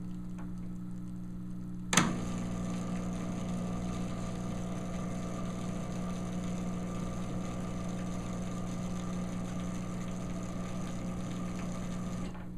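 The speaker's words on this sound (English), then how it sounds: "Now I'm going to plug in the magnetic drive pump that isn't a synchronous motor." A magnetic drive aquarium pump with a non-synchronous motor runs steadily after being plugged in, giving a constant low hum with a faint mechanical buzz, following a sharp click at switch-on.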